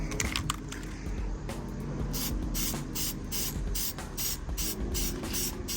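An aerosol can of HyperDip sprays a wet coat onto Kia Forte GT chrome trim, a steady close hiss broken by short pulses as the nozzle is pressed, with no talk.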